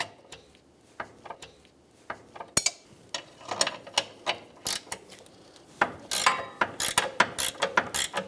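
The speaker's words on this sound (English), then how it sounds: "Using 2 21mm wrenches, we're going to loosen the outside nut." Ratcheting metal clicks from two 21mm wrenches breaking loose the outside control arm nut on a 2008-2017 Buick Enclave rear suspension, sparse at first then a dense run of sharp close clicks and clanks, with no talk.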